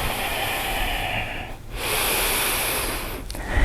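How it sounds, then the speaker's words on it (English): Deep, slow yoga breathing sits close to the microphone as a long airy exhale, a short pause, then another full breathy draw of air, with no talking. "Take deep breaths"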